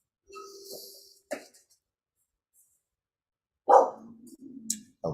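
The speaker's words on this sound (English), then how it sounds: "Oh, those are my dogs." Dogs bark a few times in a quiet indoor room, brief muffled woofs with short growly tails, moderately close, between stretches of silence.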